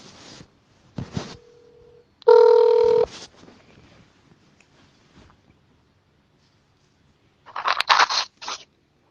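A telephone handset sounds during an outgoing call: a short tone, a louder burst of ringing, then quieter handling noise and a second ringing burst near the end.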